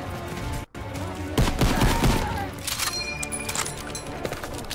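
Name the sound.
gunfire from shooting an enemy in COD WW2 video game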